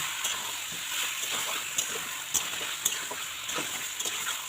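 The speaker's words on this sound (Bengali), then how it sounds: "ভালোভাবে নেড়ে চেড়ে মিশিয়ে দেবো যাতে মশলাটা খুব ভালোভাবে পাক হয়ে যায়" Chicken with masala for Hyderabadi dum chicken sizzles steadily in a pan, with a spoon scraping and stirring in irregular soft strokes, close and alone.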